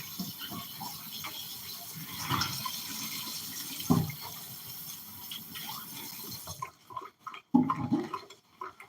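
Tap water running into a sink while a Thanksgiving turkey is rinsed, a soft uneven splashing wash with handling bumps, easing off near the end amid a few knocks.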